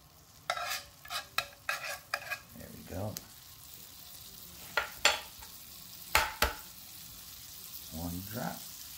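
Eggs cooking in a 10-inch Michaelangelo nonstick frying pan, with a soft sizzle under a series of sharp utensil taps and clinks against the pan, plus brief bursts of movement; no speech.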